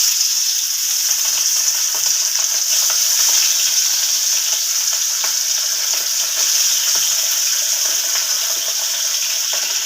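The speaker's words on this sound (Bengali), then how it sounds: "তো মাখিয়ে নেওয়া হয়ে গেছে, আমি এখন এগুলোকে ভাজবো। এই তো কড়াইয়ের মধ্যে তেল গরম হয়ে গেছে" Pabda fish fry in hot oil in a wok with a loud, dense, continuous sizzle and spatter, close up and with no speech.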